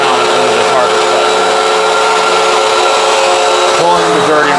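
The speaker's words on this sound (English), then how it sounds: "This Hoover is getting deep down into the carpet bed," A Hoover Windtunnel vacuum cleaner works over a filthy outdoor rug, its motor running as a loud, constant, even whine with a brief shift in pitch near the end, and someone speaking over it.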